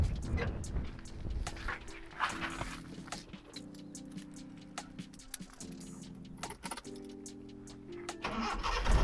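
A repaired Nissan 1400's engine cranks and catches, then runs with a steady mid-pitched hum through several seconds of idle, with some clicks and rattles nearby and no talk.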